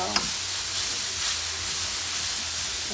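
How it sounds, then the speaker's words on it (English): Cabbage frying in a pan gives a steady, dense sizzle and hiss throughout, close and fairly loud, with a brief clink near the start and no talking. "So now we're just gonna fry it."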